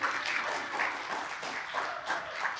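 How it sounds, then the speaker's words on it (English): A church congregation at a Sunday sermon claps in a steady, rhythmic patter of many hands, moderately loud and sustained without speech. "Yeah, you can clap for that if you want to."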